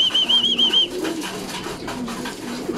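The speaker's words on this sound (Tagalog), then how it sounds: "Pahintay ko na lang magbabaan yung mga south bird natin." Racing pigeons coo softly and repeatedly while landing at a loft during a training toss in San Leonardo, Nueva Ecija, with a high whistling tone at the start.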